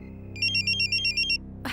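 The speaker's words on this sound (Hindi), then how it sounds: "देखो मेरे जानू का फोन भी आ गया।" A mobile phone ringtone chirps in a rapid, bright warbling pattern of about eight short pulses over a low steady hum, then stops, followed by a burst of rustling noise.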